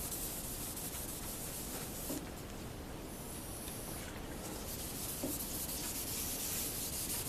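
Finish is rubbed into a flame-top Telecaster guitar body with a steady, close, soft rubbing hiss that runs on without a break.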